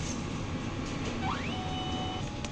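An inkjet printer printing a nozzle check hums and whirs steadily, with a rising electronic chirp partway through and a sustained whine after it. No one speaks.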